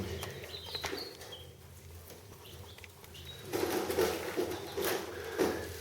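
Baby chicks kept in a small, low incubation box give high, thin cheeps and peeps, with light scratching and fluttering; the chirping gets louder and busier in the second half.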